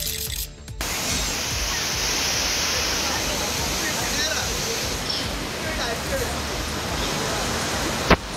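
Waterfall at Kovai Kutralam falls, a steady loud broadband rush of falling water throughout, with faint crowd noise mixed in.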